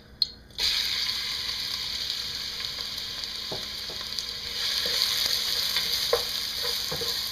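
Onions hit hot olive oil in a cooking pot and sizzle loudly and continuously after a brief quiet start, with occasional stirring clicks and scrapes.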